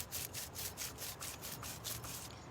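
Sandpaper is rubbed back and forth over a painted surface in quick rhythmic strokes, about a dozen raspy scrapes close by at a moderate level.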